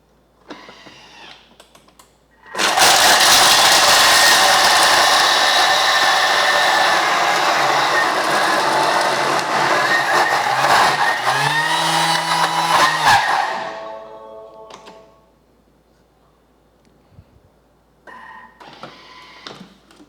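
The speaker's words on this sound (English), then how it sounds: "I'm going to grate this for 10 seconds at speed 10." Thermomix blade grating at speed 10 for peanut butter ice cream, a loud whirring roar that starts abruptly, runs for about ten seconds with shifting pitch as it spins down, then stops to quiet clatter.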